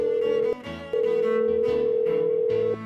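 A telephone sounds its calling tone while a number is dialed. Two steady electronic tones pulse in a repeating on-off pattern, clear and alone.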